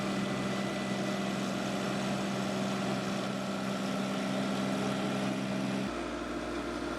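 Tractor pulling a spreader to top dress golf greens with fertiliser during winter maintenance; a steady, continuous engine drone held at a moderate distance, with the pitch dropping abruptly near the end as the engine note changes.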